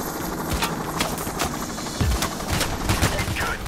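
A helicopter hovers in Payday: The Heist while rapid machine-gun bursts crackle over it, dense repeated shots under a steady rotor drone, fairly loud and close.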